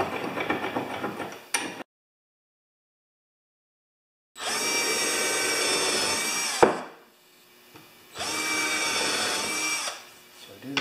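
Drill boring starter holes for the screws of a carpenter's vise, close and loud in three separate runs with a sudden silent gap early on and a sharp knock between the later bursts.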